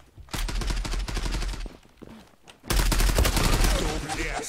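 Rapid bursts of MPT-76 rifle gunfire in the game Zula, loud and close, with a short lull before another heavier volley.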